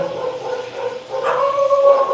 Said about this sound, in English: sorry about the dogs here.